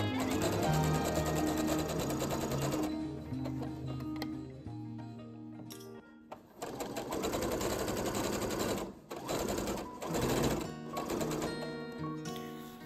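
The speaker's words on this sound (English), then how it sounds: "I'm just sewing with a very narrow seam allowance as this is just to hold the pieces together" A sewing machine stitches cosplay costume bodice pieces with a narrow seam allowance, running in loud, close bursts of rapid stitching that are broken by short pauses partway through, with no talking.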